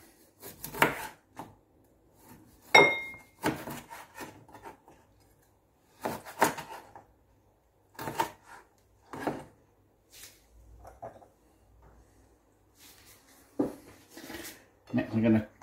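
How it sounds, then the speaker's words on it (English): A knife cuts through a lime on a board in a few sparse taps and thunks, with clinks of kitchenware and a voice talking between the cuts. "Next, I'm just going to cut the lime."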